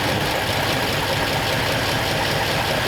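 A 1939 Ford Coupe engine idles steadily and loudly up close, a continuous low rumble with a busy mechanical texture and no voices.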